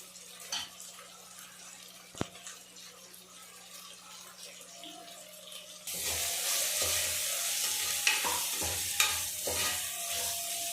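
Masala sizzles and is stirred in a pan for goat intestine gravy. Quiet scraping at first gives way to louder, steady frying with repeated spoon strokes.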